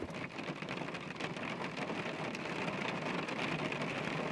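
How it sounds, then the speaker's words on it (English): Steady rain falls in New York, a dense, even hiss of drops on surfaces that continues without a break, moderately loud with no voices. "it's time for it to rain in New York"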